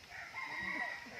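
A rooster crows once in a brief, moderately faint call, its drawn-out harmonic cry rising and falling over a low, noisy background.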